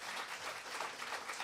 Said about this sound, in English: can we just clap it up for these wonderful musicians?